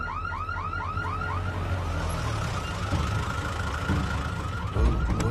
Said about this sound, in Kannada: ಏನು ಸೌಂಡ್ ಇದು ಸೈರನ್ ಸರ್